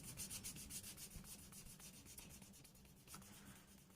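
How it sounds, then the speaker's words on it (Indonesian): Rapid, rhythmic rasping strokes of sandpaper rubbing back and forth on a leather edge, close and steady, with no talking. "Kita amplas sampai terasa kesat di permukaan edge-nya."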